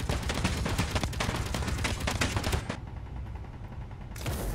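Rapid automatic gunfire in the video game Space Engineers, loud, dense bursts of shots that stop abruptly partway through and then resume at the end.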